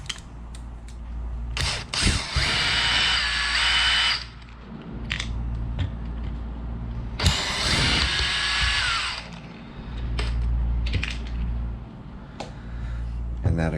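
Short bursts of a small power driver whir and ratchet as the fender is unscrewed from a Losi Promoto MX RC motorcycle, two longer runs separated by clicks and handling noise, close and loud.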